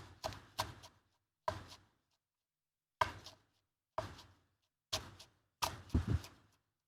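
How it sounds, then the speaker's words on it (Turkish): A knife finely chops a small bunch of parsley on a board: sharp, separate chops spaced irregularly, ending in a quick cluster, quiet and close with no talk. "Şöyle bir tutam maydanozum var. Hemen onları da şöyle ince ince doğramak istiyorum."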